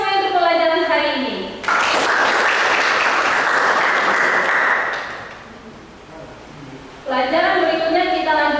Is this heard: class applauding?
yes